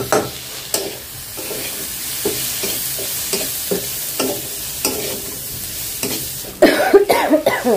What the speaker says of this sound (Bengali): ধনিয়া পাতাটা নেড়ে চেড়ে একটু ভেজে নিব